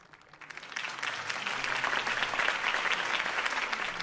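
Crowd applause in the Batman Telltale Series video game, a scene at Harvey Dent's campaign rally, building from a few claps into sustained, dense clapping that carries on evenly to the end.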